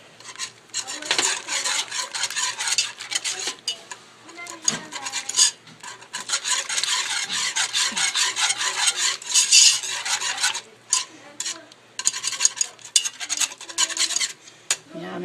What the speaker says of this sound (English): I am going to whisk consistently for 7 minutes.